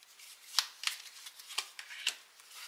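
Tarot cards are shuffled and handled at close range, a series of soft crisp flicks and slides with sharper snaps now and then. The sound is quiet and there is no talking.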